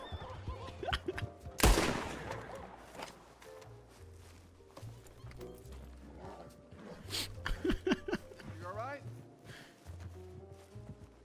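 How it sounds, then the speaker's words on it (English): Gunfire aimed at a horse in a Wild West video game: a loud burst of shots near the start, then scattered game sounds with possible hoofbeats and horse noises, while several people talk over it. "You're shooting my horse."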